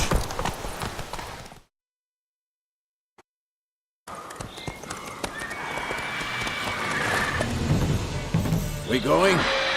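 Clip-clop hooves of Geralt's horse Roach trotting in The Witcher 3, close and steady, with game sounds and voices around them and a stretch of total silence near the start.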